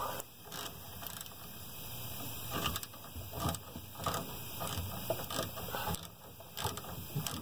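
Socket wrench ratcheting on a rear shock bolt of a 2002 Sonoma pickup, with close, quiet, repeated clicking strokes in an uneven rhythm.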